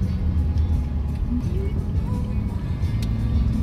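Street traffic crawls outside SM Taytay mall, a dense low rumble of car engines close by with a steady hum and no clear gaps.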